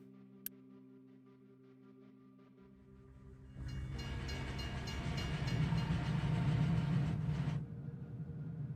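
Trains run in the industrial building game Captain of Industry: a low hum gives way to a swelling rumble of rolling wagons and engine noise that builds, holds loud and steady, then drops off abruptly.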